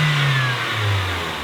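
A Mazda Miata engine with 120,000 miles, running close up and loud, briefly revving and then dropping back, with a slight rattle under the engine note and no voices.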